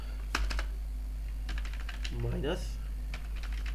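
Keys clatter on a computer keyboard in irregular bursts of clicks during a coding session, with a voice speaking briefly in between.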